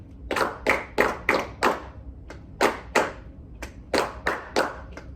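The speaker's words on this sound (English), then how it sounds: "Okay, now just clap it." Hands clap a ta-di rhythm in a music lesson, sharp close claps in short groups with brief pauses between, alone with no talking.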